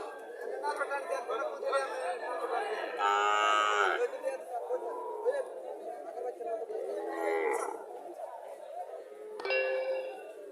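Cattle mooing several times nearby, a Haryana-breed cow and calf at a livestock market, long low calls rising over background chatter and occasional clanks.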